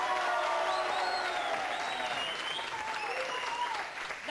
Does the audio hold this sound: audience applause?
yes